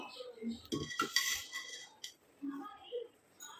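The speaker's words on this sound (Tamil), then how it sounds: "அடுத்து நம்ம ஒரு இரும்பு கடாய் ஒன்று எடுத்துக்கலாம்" An iron kadai is picked up and handled in a kitchen, giving a few close metallic clanks and clinks between quiet pauses.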